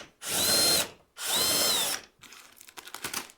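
A power tool whirs in two loud, sustained bursts of about a second each while removing bolts from the side panel of a 2020-or-later Can-Am Spyder RT, followed by lighter clicks and rattles of handling.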